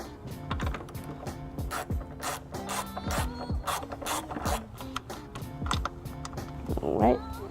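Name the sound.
socket wrench ratcheting out two 10mm bolts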